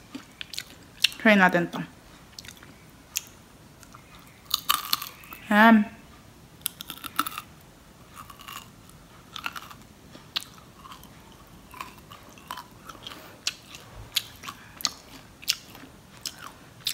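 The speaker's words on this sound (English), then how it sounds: "Kanina, super crunchy yung nakuha kong piece." Crunchy cooked bacon is bitten and chewed up close in several crisp, crackling bursts followed by softer intermittent chewing, with a few brief spoken words.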